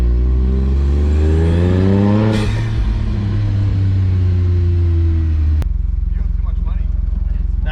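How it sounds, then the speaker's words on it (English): A Honda S660 small sports car engine revs up in second gear at partial throttle with a rising whine, then eases off to a steady, lower drone; a voice speaks briefly over it. "second gear and partial throttle"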